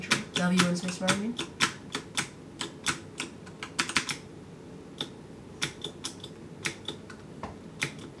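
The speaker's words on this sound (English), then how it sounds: "You're holding W, control, and spacebar." Computer keyboard keys pressed in quick irregular bursts during Minecraft play, with movement and jump keys held down, close and crisp as a voice talks in the background.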